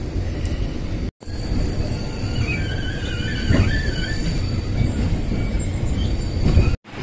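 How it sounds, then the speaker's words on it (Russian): A tram rolls slowly through Vienna with a loud, steady rumble from inside the car, joined by faint wheel squeals and brief breaks in the sound. "к сожалению, наш трамвай едет очень медленно"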